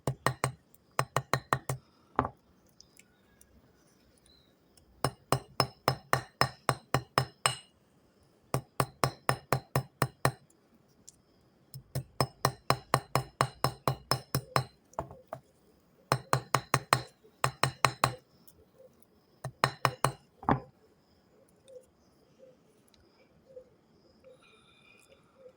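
Copper wire braided from seven strands is hammered into a rustic bracelet texture, sharp metallic taps in rapid bursts of ten or more strikes separated by short pauses, close and loud with a bright ringing clink.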